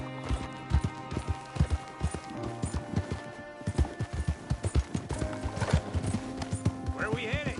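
Horse hooves clip-clop in a quick, steady gallop in Red Dead Redemption 2, close and rhythmic throughout, with a brief whinny near the end.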